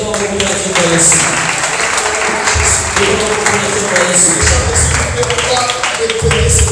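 A church congregation at a prayer service claps and acclaims together, with sustained applause mixed with many raised voices and singing.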